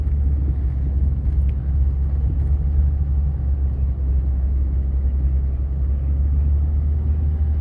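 A truck drives along a slushy, snowy gravel road in winter, giving a steady low engine and tire rumble heard from inside the cab, continuous and fairly loud with no talking.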